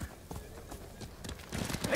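Rhythmic hoof clip-clops from a horse trotting in the video game Ghost of Tsushima, steady and fairly close, with some background game ambience.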